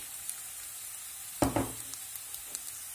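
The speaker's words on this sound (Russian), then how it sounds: "колбаска уже поджарилась" Sausage frying in a pan for a breakfast omelette, a steady low sizzle with a couple of sharper crackling bursts and light spatter pops, close by, no voices.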